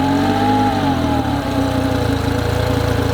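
Speedboat outboard engine running on flushing muffs with its exhaust out of the water, giving a loud, steady idle with a throbbing low rumble and a brief dip in pitch partway through, no voices.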